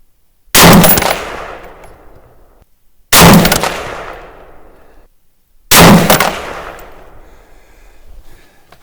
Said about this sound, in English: so 3 rounds, 223, 2 steel and 1 aluminum slug